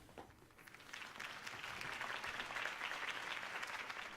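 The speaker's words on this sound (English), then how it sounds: "could have heard that applause" In Telltale's Batman video game, a crowd breaks into applause: dense, steady clapping that builds quickly and holds at a moderate level, with no voices over it.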